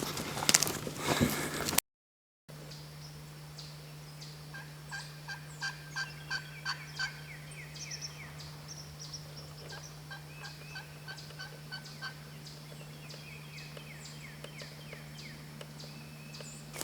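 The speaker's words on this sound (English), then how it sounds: "We got turkeys on both sides." Wild turkeys gobble in the distance, a series of repeated rolling calls coming in regular bursts and then tapering off, faint and alone in a quiet outdoor setting.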